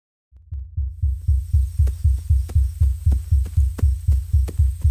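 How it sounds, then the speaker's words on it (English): Heartbeat sound effect added during film sound design editing, a loud, steady, deep double-thump pulse repeating about every third of a second, booming and close with no other sounds. "actually add that heartbeat, we get something which is a little bit more dramatic"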